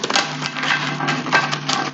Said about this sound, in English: So we'll shuffle a little bit more